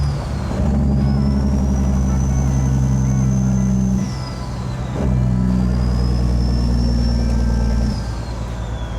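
A truck's Jake brake (engine brake) roars loud and close in two long, steady bursts, each cutting off sharply, over continuous engine drone heard from the cab, with no talk.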